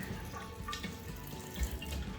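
Water runs steadily from a pump-style faucet into a vessel sink in a bathroom, a continuous close splashing stream with small drips and gurgles, no voices.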